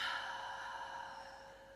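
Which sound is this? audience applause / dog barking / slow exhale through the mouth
slow exhale through the mouth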